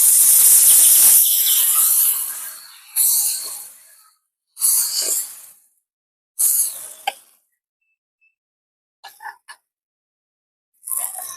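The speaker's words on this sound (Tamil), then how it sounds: "இப்ப நாங்க வெங்காய தோசை சுட போறேன்." Onion dosa batter sizzles loudly on a hot pan over a wood-fired village stove, with a long opening hiss followed by several shorter bursts of spitting and crackling separated by quiet gaps.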